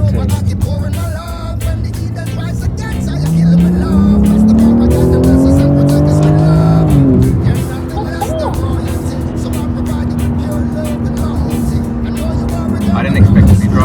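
A Porsche's engine drones from inside the car as it drives, its pitch climbing steadily, dropping and climbing again through gear changes, with a voice talking over the engine noise.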